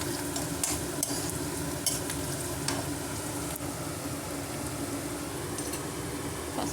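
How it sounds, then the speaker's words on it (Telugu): Onion, green chilli and turmeric sizzle and fry steadily in a pan for a curry, with a constant hiss and a few sharp clinks of stirring. "ఉల్లిగడ్డ, పచ్చిమిర్చి, ఇప్పుడు మనం పసుపు వేసుకుందామండి."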